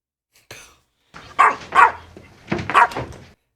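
A dog barks in a scene from The Sopranos TV drama: a faint yip, then two pairs of sharp, fairly close barks with short gaps between them, heard on their own.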